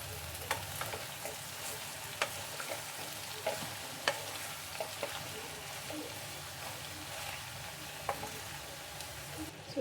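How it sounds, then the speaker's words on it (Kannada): Shredded cabbage stirred in a frying pan, steady sizzle with scraping spoon clicks and knocks recurring through the whole stretch, close and fairly quiet. "ಸೊ ಇದೆಲ್ಲ ಹಾಕ್ಬಿಟ್ಟು ಚೆನ್ನಾಗಿ ಒಂದ್ಸಲ ಮಿಕ್ಸ್ ಮಾಡಿ"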